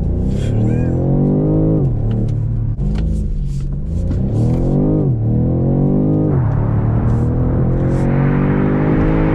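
A 2020 BMW M850i Cabriolet on a private road revs hard in loud, rising engine sweeps, the pitch climbing through several gears with brief dips at each shift, close and continuous, with a voice mixed under it.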